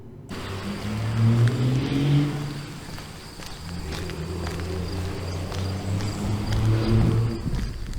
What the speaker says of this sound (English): as you just heard, all of a sudden what broke the quiet was this car